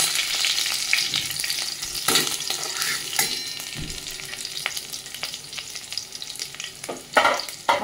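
Whole spices and curry leaves fry in hot oil in a pan for paneer fried rice, giving a bright crackling sizzle with frequent spoon scrapes and knocks, plus a louder clatter near the end.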